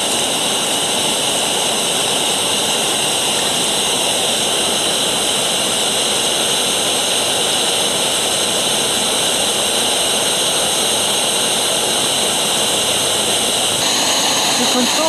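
A SOTO Muka OD1NP liquid-fuel stove burner roars loud and steady right after ignition, a continuous jet-like rush that holds for the whole stretch.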